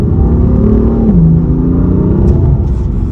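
An F82 BMW M4 engine roars loudly up close, revving hard in second gear and climbing in pitch as it accelerates, with a brief gear-shift dip.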